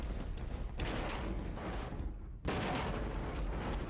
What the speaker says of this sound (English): And the mortars fall.